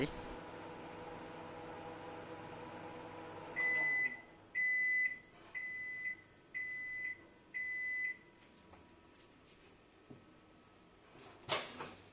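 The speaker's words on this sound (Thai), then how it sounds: "เข้าไมโครเวฟอีกหนึ่งครั้ง เวลานาทีครึ่งหรือ 2 นาที" A microwave oven heating a steak hums steadily for a few seconds, then stops and gives five evenly spaced electronic beeps, followed by a faint click and a brief clatter of the door.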